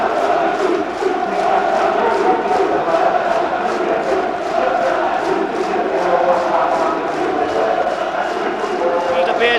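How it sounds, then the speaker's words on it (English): A large football crowd at Norwich City versus Newcastle United in January 1994 gives sustained loud applause and cheering. The broad roar runs without a break, with rhythmic clapping pulses and no clear talk. "Beardsley leading the applause to the away fans"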